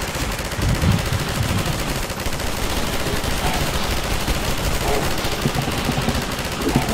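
Sustained gunfire in the video game Half-Life 2: Episode One, a dense continuous rattle of shots with chaotic noise running steadily throughout at high loudness.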